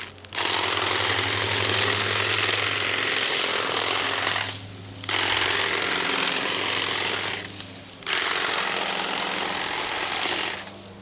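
A loud, high-revving garden power tool cutting grass into a corner whines continuously, briefly easing off twice before surging back, like a string trimmer up close.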